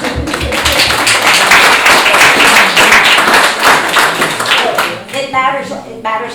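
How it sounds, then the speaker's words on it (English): Applause from a lecture audience, loud and close, with mixed claps and thumps under crowd murmur that fades into talking near the end. "applause"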